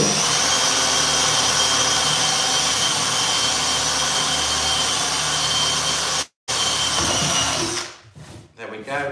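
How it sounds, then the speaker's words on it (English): A power drill whines loudly and steadily, close by, while widening a hardware hole in chalk-painted furniture, running for several seconds before a brief cut-out and a final few short bursts as it winds down. "you might need to wiggle your drill a little bit around the top, like just in here, just to widen that hole"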